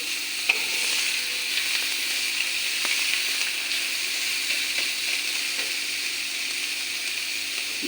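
Beans and shredded carrots frying in a pan for semolina pulao, giving a steady broadband sizzle with occasional faint stirring scrapes, constant and close throughout.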